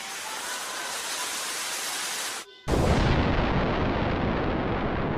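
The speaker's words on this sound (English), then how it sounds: "Oh, the bombs." Bombs explode in a video game: a loud, sustained roaring blast of broadband noise, briefly cut off, then resuming even heavier and rumbling on without letup.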